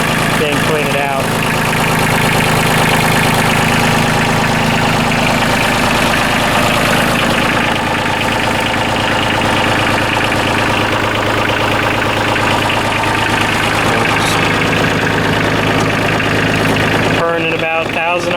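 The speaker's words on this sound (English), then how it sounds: "There's the engine running there." A Kioti CK27 compact tractor engine idles at about 1,000 RPM, with a loud, steady diesel rumble and knock that runs unbroken and close until it cuts off near the end; someone talks over it.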